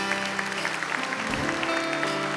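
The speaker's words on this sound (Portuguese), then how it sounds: "Uma salva de palmas a esses pais." A church congregation claps for fathers during a service, steady applause under a sustained musical tone, with a low thump midway.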